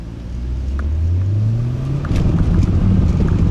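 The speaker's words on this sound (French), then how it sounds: "le bruit du turbo, on l'entend bien quoi" A turbocharged car engine revs up with a rising whine, a deep rumble swelling underneath and a faint whooshing turbo hiss over it, close and loud.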